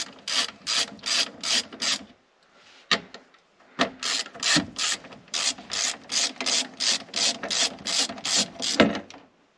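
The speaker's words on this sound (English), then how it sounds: "Now with the shifter marked, I can remove the two 13 millimeter bolts." A ratchet backing out two 13 mm bolts on an air-cooled Volkswagen shifter, with close, crisp pawl clicking in quick regular bursts, a short pause and a single clack, then another long rhythmic run of clicks.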